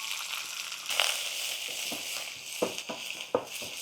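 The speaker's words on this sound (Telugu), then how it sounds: "ఒక మీడియం సైజ్ ఆనియన్ అవి చిటపట అంటూనే వేసేస్తున్నాను" A medium onion dropped into hot oil with popping cumin and mustard seeds in a steel pot, giving a close, even sizzle broken by several sharp crackles and spatters.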